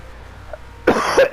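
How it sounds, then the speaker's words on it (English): A person with asthma breaks into a short, harsh coughing fit after a quiet pause, two or three loud, close rasping coughs in quick succession with no talk over them. "I'm still coughing like a maniac"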